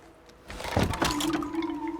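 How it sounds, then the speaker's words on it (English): Water rushing and filling a bridge mechanism in Horizon Zero Dawn, a gushing, swelling pour rising after a quiet start and holding steady with a sustained tonal hum, close and fairly loud. "Looks like it needs to fill up with water before I can cross."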